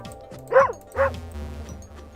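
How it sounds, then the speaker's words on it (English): A cartoon dog in a cute video game gives two short, close yips or barks in quick succession over a soft, steady game soundtrack. "Bark at the red things."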